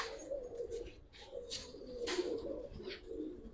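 Pigeons coo softly and repeatedly in a quiet loft, their low throaty calls rolling on without pause, with no voices heard.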